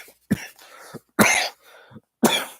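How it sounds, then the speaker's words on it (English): A person coughs in three harsh, close bursts with throat clearing between them, a brief coughing fit following an attempt at a growl. "it sends me into a coughing fit"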